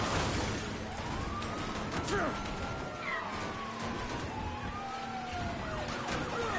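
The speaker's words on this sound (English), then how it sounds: "Whoop, whoop, it's the sound of the police." A police car siren in the video game Mafia 3 wails in sweeping, rising and falling tones through the whole stretch, steady and moderately loud beneath game noise and a voice talking over it.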